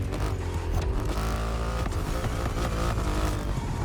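Triumph Rocket 3 R motorcycle engine in The Crew Motorfest, a loud continuous drone with shifting pitch as the bike slows under braking, with busy game sound throughout.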